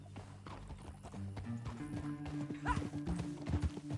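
Horse hooves gallop in a rapid clip-clop rhythm in Red Dead Redemption 2, with a neigh and a short shout over the pounding hoofbeats and background game sounds.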